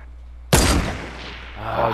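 Gunfire blasting through a brick wall in a Fortnite duo match: a sudden loud broadband burst that rings out and slowly fades, followed by a quieter rumble with faint voice-like tones near the end.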